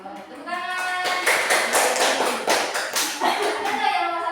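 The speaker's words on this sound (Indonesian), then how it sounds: "Tepuk tangan." A class of students clapping hands together, a dense burst of many overlapping claps lasting several seconds, loud and close, with a voice heard at the start.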